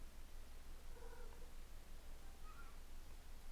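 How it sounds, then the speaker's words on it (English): A cat gives two soft, faint meows about a second and a half apart over a steady low background hum. "that was the most pathetic meow I've ever heard in my life"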